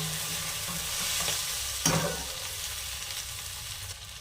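Sauce being stirred into vegetable pasta in a frying pan, a steady soft sizzle with scraping stir strokes and one sharper clatter midway, close and continuous with no talk.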